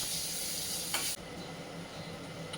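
Black cumin, onion, ginger and garlic fry in hot oil with a close, steady hiss, interrupted by a brief stir and an abrupt drop in level partway through.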